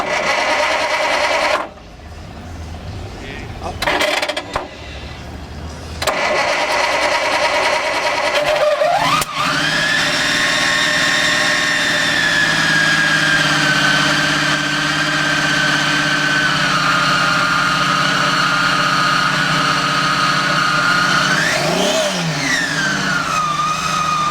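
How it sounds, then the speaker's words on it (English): A classic car engine cranks and fires up, then settles into a loud, steady idle close by, with a brief rise in revs near the end. "going to fire the car up for us"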